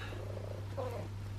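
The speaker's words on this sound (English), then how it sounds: "And then the purrs." A house cat purrs close up in a continuous low, steady rumbling vibration with a soft rhythmic pulse, heard alone with no talk.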